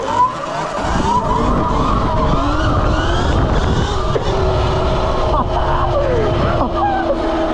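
A Ventus V1+ electric motorbike accelerating hard in boost mode gives a loud, rising whine with rushing wind noise, and a voice speaks over it.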